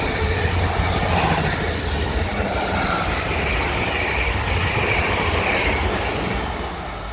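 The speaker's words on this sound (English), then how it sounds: "We have a passing set of 450s." British Rail Class 450 electric multiple units pass at Raynes Park on the South Western Main Line, a loud, close, continuous roar of wheels and rail noise that fades slightly toward the end.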